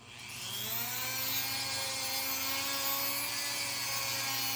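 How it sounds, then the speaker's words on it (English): A handheld Dremel rotary tool grinds the foot of a fishing rod guide with a steady, close, high-pitched whine that spins up quickly and holds level throughout. "So I'm just gonna go ahead and grind this. Obviously it's gonna make some noise."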